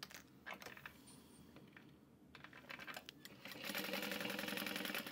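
A sewing machine basting layers of clear glitter TPU stitches in quick, uneven bursts, faint and close, then settles into a louder steady whir near the end.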